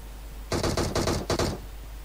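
Rapid automatic gunfire in PUBG, a sharp burst of close shots lasting about a second in three tight clusters, loud against a quiet background.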